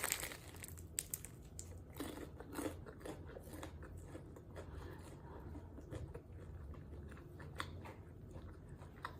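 Crunchy food being bitten and chewed close to the mic during a mukbang, several crisp crunches early on, then quieter chewing with faint crinkling.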